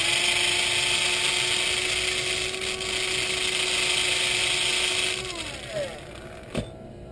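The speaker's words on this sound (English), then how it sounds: "May have to ream it out a little bit." A steady high-pitched power tool whine reaming out a hole during a knife build, loud and close, running continuously before winding down, followed by a couple of sharp clicks.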